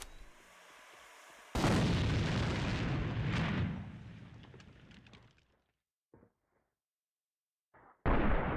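A grenade blast in an online first-person shooter erupts as one loud, sudden boom and rolls off into a fading rumble over a few seconds. A couple of faint pops follow, and a second loud burst cuts in at the very end.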